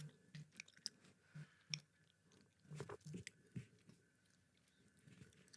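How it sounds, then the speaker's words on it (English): Close, wet chewing and crunching right on a podcast microphone, a run of irregular soft bites and mouth clicks over several seconds, fairly quiet overall with no talking. "just listen to me chew real loud"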